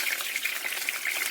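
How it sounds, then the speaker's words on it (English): Fish fries in a pan for escabeche, producing a steady, close hissing sizzle with small crackling pops and no voices. "So let me finish frying the fish"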